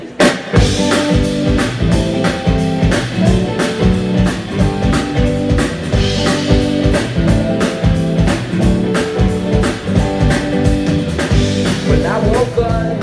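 A band plays their original song live at the Original Sundance Saloon, a full band with steady drum hits, bass and guitars under a continuous loud groove.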